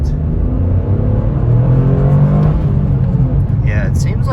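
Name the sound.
2023 Toyota GR Corolla engine accelerating on a straight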